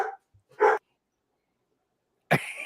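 A dog gives two short barks in quick succession, then falls silent before a third loud bark near the end; the sounds are close and isolated, with no talk over them.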